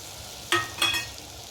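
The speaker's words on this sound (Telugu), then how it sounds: "ఇప్పుడు గోరుచిక్కుళ్ళు వేసుకోవాలి." Cluster beans drop into a pan of softened cooked tomato, and two short bursts of sizzling and frying follow, close and brief.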